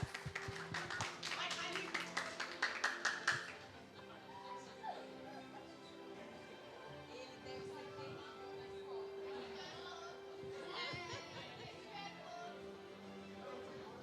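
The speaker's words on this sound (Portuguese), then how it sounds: "Palmas, gente, palmas." Audience clapping at a youth council session in a chamber, a few seconds of fairly faint, quick clapping that stops abruptly, followed by quiet room noise and scattered voices.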